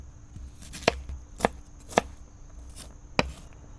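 A knife chopping onion on a board, four sharp separate cuts spaced unevenly over a few seconds, close and clear against a quiet room.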